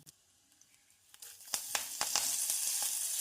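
Curry leaves dropped into hot oil with dried red chillies while tempering lemon rasam, a few soft pops followed by a sudden loud crackling sizzle that keeps building.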